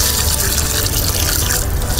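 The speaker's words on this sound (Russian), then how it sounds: "Лей туда в ямку аккуратненько." Water pouring steadily into a deep planting hole dug for a young fir tree, a loud continuous splashing and gushing close by.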